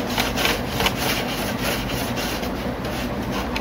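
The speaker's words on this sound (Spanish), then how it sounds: "esta ranura a la cual no puedo llegar, uso el cepillo para hacerle así" Steady close brushing against a PlayStation 2 console slot to clear dust, a continuous dry rubbing hiss with faint rhythmic strokes.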